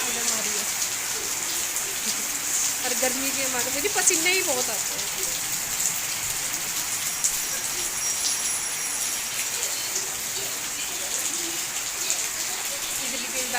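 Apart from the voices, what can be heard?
monsoon rain falling outside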